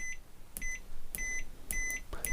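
Continuity buzzer of a touch screen multimeter beeping while components are tested: four short, sharp electronic beeps at an even rhythm, close and clear, with no talking.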